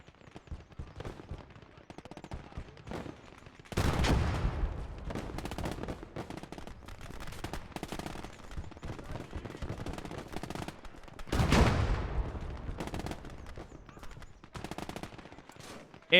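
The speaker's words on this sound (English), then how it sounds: "We're being really pressured by 30 cals and 50 cal from that thing" Machine gun fire from .30 and .50 caliber weapons in the Gates of Hell combat game rattles in rapid, distant bursts, with two louder, heavier stretches of sustained fire standing out amid scattered shots.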